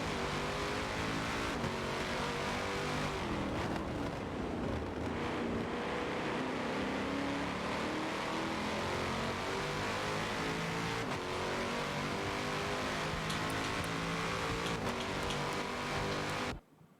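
Race cars lapping Daytona in a 24-hour video game race, with a continuous loud engine drone, shifting revs and other cars close alongside, and no pauses.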